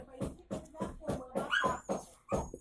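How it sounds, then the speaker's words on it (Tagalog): A dog whimpering and yipping nearby in short, repeated pulsing bursts, a fairly quiet string of plaintive cries with no speech over it. "Take two kasi may aso."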